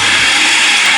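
A blender running at high speed, blending vegan meal-prep ingredients with garlic and onion powder, a loud steady whir filling the short moment without any talk.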